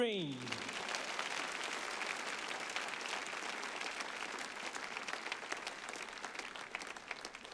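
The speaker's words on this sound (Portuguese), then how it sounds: "vamos aplaudi-lo." A church congregation applauds steadily throughout, a dense wash of many hands clapping together at even loudness after a brief opening tone, with no talk over it.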